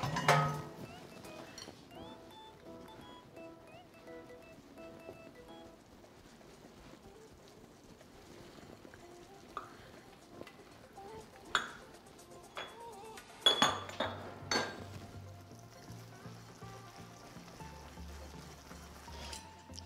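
Lemon loaf batter being mixed in a bowl, with scattered soft clinks and scrapes of a utensil against the bowl, growing busier and louder toward the end, in a quiet kitchen.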